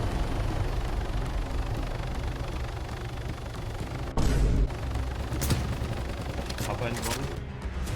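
M200 sniper rifle fired at a helicopter in the video game DayZ, a few sharp loud cracks in the second half over a continuous engine rumble, with voices in the background.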